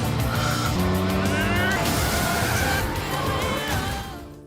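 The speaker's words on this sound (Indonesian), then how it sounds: "Pada satu momen mereka tiba-tiba menabrak mobil Direktur Lee dari samping yang cukup keras dan membuatnya terpental dan menabrak pembatas jalan." In an action film, a car slams into another car from the side and sends it into a roadside barrier: loud, dense roar of engines, screeching tires and crunching impact, continuous and close, fading at the end.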